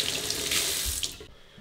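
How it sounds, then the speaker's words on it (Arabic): An electric, rechargeable faucet runs water steadily into a sink, a close, continuous splash that stops abruptly near the end. "انا لو عندي بتاع زي ده هروح الحنفيه اشغلها"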